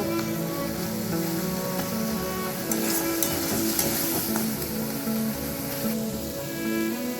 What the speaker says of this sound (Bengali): এবার টমেটোগুলোকে একটু আমি ঘেঁটে দেবো।